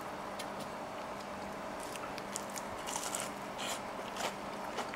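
Quiet, crisp crunching bites into fried tempura, a few close crackly bursts against a soft background hum.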